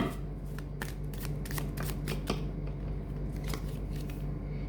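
Tarot cards shuffled and drawn from a deck, a close run of quick riffling flicks and soft slaps over a steady low hum, with no voice.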